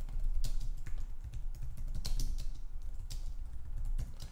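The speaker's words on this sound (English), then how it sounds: "let's type some kind of slogan." Rapid typing on a computer keyboard, close and steady clicking keystrokes in quick bursts over a low hum, with no voices.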